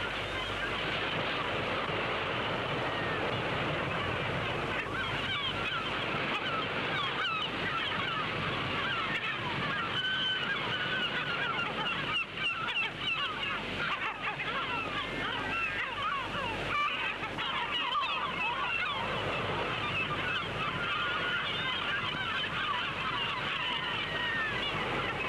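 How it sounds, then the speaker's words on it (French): Seagulls cry and squawk in a dense, continuous din around a fishing trawler at sea as the catch comes aboard, loud and unbroken, layered over wind, engine and water noise. "Les mouettes sont au festin"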